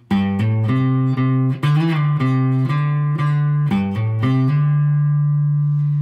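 A clean electric guitar plays a short solo phrase of quick notes with slides and bends, then rings out on a sustained held note.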